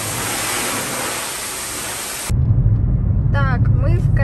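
Self-service car wash pressure washer spraying cold water, a loud, steady hiss that runs for about two seconds and cuts off abruptly, followed by low rumbling and brief voices.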